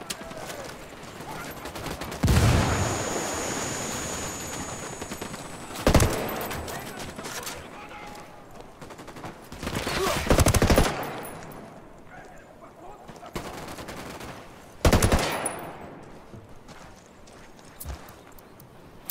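Gunfire bursts in a Ghost Recon Wildlands firefight, with several loud shots and volleys spaced across the clip over steady background noise, and voices talking in between.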